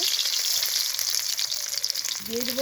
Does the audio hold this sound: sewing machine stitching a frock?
no